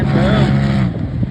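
A Polaris Pro XP UTV races in the sand at Little Sahara, its engine droning briefly and loudly with a wavering pitch, mixed with other motor noise.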